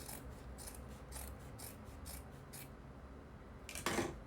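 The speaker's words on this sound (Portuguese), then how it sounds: "agora a gente vai cortar essa sobra de tecido que ficou" Scissors snip through leftover fabric lining on a small sewn phone pouch, a steady series of about six crisp cuts at an even rhythm, close and fairly quiet, followed by a louder rustling snip near the end.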